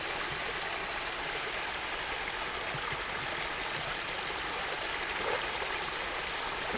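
Steady broadband rush of a waterfall and rocky stream rapids in Tennessee, continuous and fairly loud with no breaks, a constant close wash of falling water.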